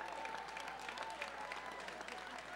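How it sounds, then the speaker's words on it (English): Brief, faint applause from an audience during a speech as family members step forward, a steady patter of clapping heard from some distance. "Give them a hand,"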